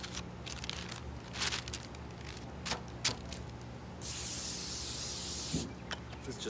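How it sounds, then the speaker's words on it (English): Olive oil is sprayed onto paper before fish goes on the barbecue: a faint rustle of handling, then one long continuous close hiss lasting over a second before it stops. "Just a little olive oil spray."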